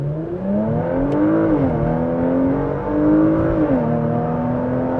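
A 2025 Porsche Macan GTS accelerates hard in first gear, its engine note climbing steadily and rising in pitch as it pulls, loud and continuous from inside the cabin.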